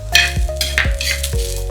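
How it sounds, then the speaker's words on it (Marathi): Onion fried until reddish in oil in a pan, with coriander seeds then added and lightly roasted, gives a steady close sizzle and several brief stirring scrapes. "धने एकदम हलके भाजायचे।"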